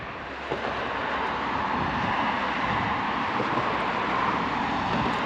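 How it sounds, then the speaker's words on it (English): Road traffic crossing the bridge at Potter Heigham on the Norfolk Broads, a continuous broadband rumble and hiss of passing vehicles heard from a moderate distance, steady after a brief quieter start. "it's the traffic on the bridge"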